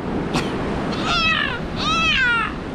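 A kitten gives two clear, high-pitched meows in quick succession over a steady rushing background of surf and wind, close and fairly loud.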